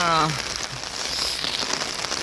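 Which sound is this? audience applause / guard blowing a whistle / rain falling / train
rain falling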